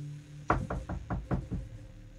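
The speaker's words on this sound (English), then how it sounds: "he's just kind of banging on the door" Six heavy knocks pound on an apartment door in a quick, slightly uneven run, loud and close with no voices over them.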